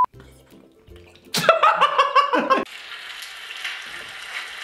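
A person's voice imitates boiling water with a burst of bubbly, gargling mouth noises, loud and close, that breaks off into a softer hiss and scattered faint sounds.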